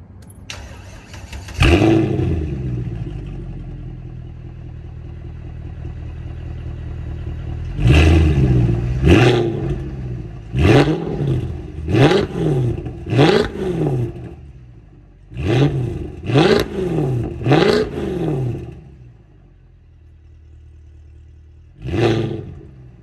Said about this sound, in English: That's 300 petrol I just revved out there.